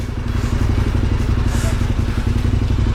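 A Honda CB 1000R motorcycle rides along a winding French country road. The engine drones loud and steady right up close, with a throbbing beat and wind rush throughout.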